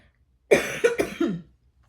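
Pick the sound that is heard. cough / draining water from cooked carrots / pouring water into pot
cough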